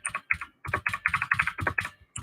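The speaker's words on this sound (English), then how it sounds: "As you can hear, this does make the proper typing noises." Typing on a Unicomp Model M mechanical keyboard, with loud, close buckling-spring clacks in quick bursts of keystrokes separated by short pauses.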